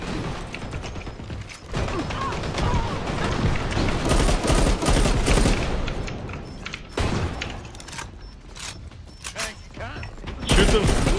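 Dense, sustained gunfire from the online shooter Dirty Bomb, with rapid bursts and sharp shots filling most of the stretch and briefly dropping out before returning loudly, while a player talks over the action.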